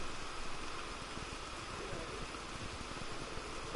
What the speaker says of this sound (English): Oh, get out of the rain.